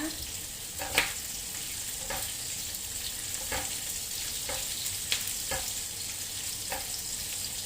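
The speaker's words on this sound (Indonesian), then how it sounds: "Ini bawang putih semua ini spice yang di sini yang digoreng-goreng itu nggak perlu sampai matang sekali ya" Garlic and spices frying in a pan for a crispy spicy chicken dish, a steady sizzle broken by occasional stirring clinks and scrapes, close and continuous with no talking.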